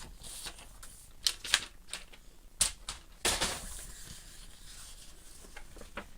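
Paper trimmer scoring landscape cardstock for card making: a run of sharp, close scraping clicks and strokes, a few louder bursts among softer rubbing, with no talking.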